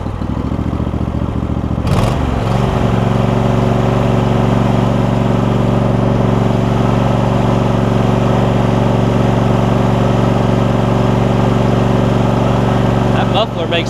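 A John Deere E140 lawn tractor fitted with a swapped-in Briggs engine starts and runs, a steady, fairly quiet, muffled idle drone that holds close and loud for about twelve seconds.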